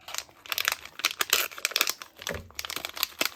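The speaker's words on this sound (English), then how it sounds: "I'm going to have to cut this bag to get these out" A plastic bag of swap items is cut and crinkled open, giving a dense run of close, loud crackling and rustling bursts with no talk over it.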